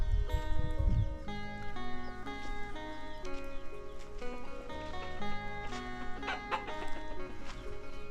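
Chickens cluck intermittently in a small Lao mountain village over a steady background of tonal music, with a brief burst of scratchy noise at the start.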